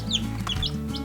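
Baby chicks in a home brooder during their first week, several birds calling in quick, overlapping cheeps and clucks close by, busy and continuous with no talking.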